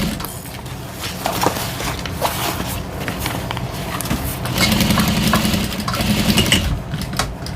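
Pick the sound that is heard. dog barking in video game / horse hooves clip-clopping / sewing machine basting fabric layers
sewing machine basting fabric layers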